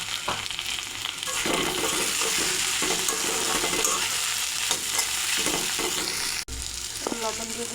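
Chopped tomato and green chili hitting hot oil with onion and potato for a phesa fish jhal, a strong continuous sizzle with repeated stirring scrapes and a short dropout near the end, no speech.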